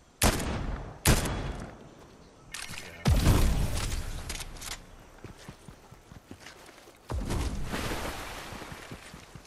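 Gunfire in the video game Fortnite: loud bursts of rapid shots arrive in several clusters, with sharp separate cracks early on and longer sustained volleys later, while footsteps and small clatters fill the gaps between.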